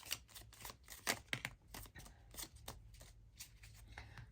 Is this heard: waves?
no